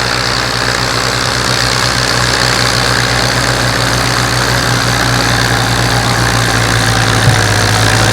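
Antique Ford tractor engine idling steadily at a plow day, a loud, even low rumble with a constant hum throughout and no talking.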